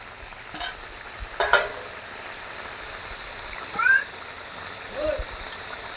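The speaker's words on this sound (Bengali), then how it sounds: "ফুটবে কিছুক্ষণ, তরকারিটা রান্না হবে।" A curry of prawn with pointed gourd simmers in a pan in a home kitchen, giving a soft, steady bubbling hiss with a few brief stirs and clinks; faint voices murmur in the background.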